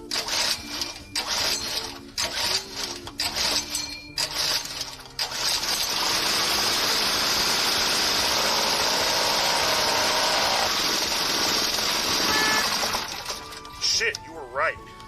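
Small gas engine roaring steadily at wide open throttle, a loud, constant buzzing drone that swells after a few seconds of uneven sputtering, with voices talking over it at the start and end.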